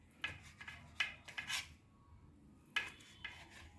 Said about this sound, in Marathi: चला आता आपण याला कट करून घेऊया।